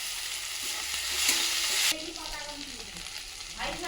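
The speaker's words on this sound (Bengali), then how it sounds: "এরপরে আদা বাটা দিয়ে দেবো" Ginger paste sizzles in a pan with fried onion, tomato and garlic while a utensil stirs it. A close, steady frying hiss runs with scraping strokes and a sharp drop in brightness midway.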